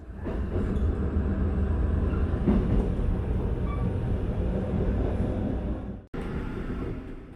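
Inside the carriage of a Mugunghwa train, a steady loud rumble of running wheels and rail noise fills the space, with a brief sharp dropout near the end before the roar resumes.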